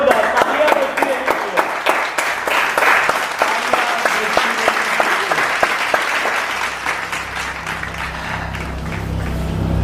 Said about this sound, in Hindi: एक बार जोरदार तालियां बजती हैं